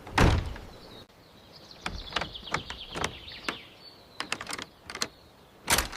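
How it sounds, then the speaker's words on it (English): An old windmill door on metal hinges opens in an animated cartoon setting, giving a run of sharp creaks, clicks and knocks over a faint squeal, ending with a firm thud. "At the windmill, they discovered that its old door was almost ready to open."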